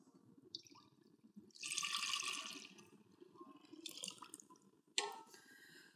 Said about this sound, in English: I'm going to put 1 liter of milk in a large saucepan.